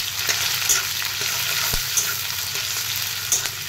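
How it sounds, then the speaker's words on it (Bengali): Chopped onion fries in mustard oil, with a steady loud sizzle and occasional scraping clinks of stirring, heard up close. "পেঁয়াজটাকে একটু ভালো করে ভেজে নেব।"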